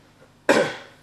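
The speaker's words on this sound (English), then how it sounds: "Excuse my coughing." A single short cough, close and sudden, against a quiet background.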